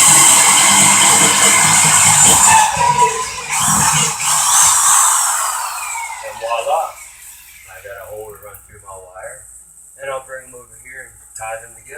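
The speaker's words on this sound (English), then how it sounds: "This Milwaukee angle drill is real nice." A Milwaukee angle drill whines at high pitch as it bores through a wooden joist, loud and close, then stops; a person talks afterward.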